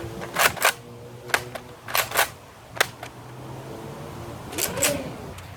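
A Fuse Fire disc blaster firing Nerf Vortex discs, a series of sharp mechanical snaps and clacks in irregular clusters, about seven shots close by with brief whirring between.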